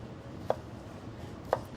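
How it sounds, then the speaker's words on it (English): A kitchen knife chops potatoes into small fry-shaped pieces, two sharp, quiet chops about a second apart over faint background hiss. "Now that we're done chopping,"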